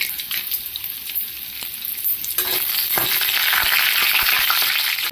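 Whole spices, cinnamon, cloves and bay leaf, fry in hot oil for pudina mint rice, a steady bright sizzle that swells louder midway as more goes into the pan, with a few soft stirring scrapes.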